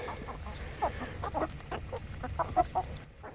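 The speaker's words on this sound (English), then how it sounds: "that is one good looking Americana rooster right there" An Americana rooster gives a series of soft clucks, faint and close, spaced irregularly over a low background hum.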